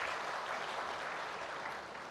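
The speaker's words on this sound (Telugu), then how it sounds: "అందరూ గట్టిగా చప్పట్లు కొట్టమని కోరుతున్నా" Audience applause at a political gathering in Jammalamadugu, a dense, even wash of clapping heard at a distance and fairly faint, steady for the whole stretch with no speech.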